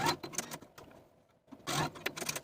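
A sewing machine bastes elastic inside a jumpsuit waistband, making quiet rapid stitching bursts that stop briefly, then resume.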